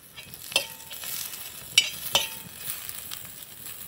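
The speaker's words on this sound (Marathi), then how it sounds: "कांदा भाजत आला की खोबऱ्याचे काप टाकून द्यायचे," Onion and coconut slices frying in a pan make a soft sizzle, broken by three sharp scraping clinks from stirring, close and fairly quiet, with no voices.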